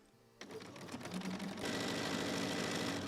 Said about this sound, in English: I have our tops and bottoms all sewn together, and I'm going to sew them onto the blocks.